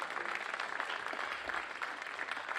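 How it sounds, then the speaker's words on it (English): An audience at a college Orange Shirt Day of Remembrance event applauds the ancestral sisterhood, a steady, moderately distant wash of many hands clapping with no voices over it. "Let's give another round of applause to our ancestral sisterhood,"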